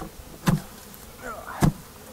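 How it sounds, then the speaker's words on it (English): Honeybees being shaken out of a box in front of their hive, a faint low buzz broken by two sharp knocks. "So I just need to dump these bees out"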